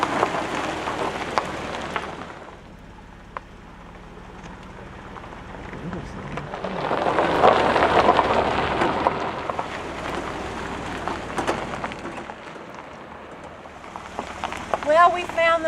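Steady rain pattering outdoors at about 10,000 feet, a dense continuous hiss that swells in the middle, with voices faintly underneath and no distinct thunder.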